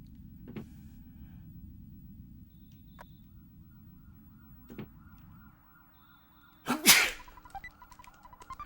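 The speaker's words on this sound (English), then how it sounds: "Oh, gotta sneeze." A single loud sneeze bursts out close to the mic partway through, over a quiet background of faint game music and soft clicks, with no talking.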